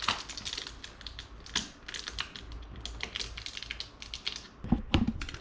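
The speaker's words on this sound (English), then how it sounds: "push it flat against the body and apply pressure on the sticker as I roll this back" A decal sticker is pressed flat and rolled back on the body of an Autozam AZ-1, soft close crinkling, tapping and peeling crackles in quick irregular bursts.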